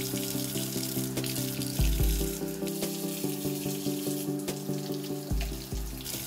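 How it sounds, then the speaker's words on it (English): Peppers being washed under running tap water at a kitchen sink, a steady close splashing stream with rhythmic pulses as water breaks over the peppers, no talking. "After I finish washing all of these peppers individually, I want them to be as dry as possible"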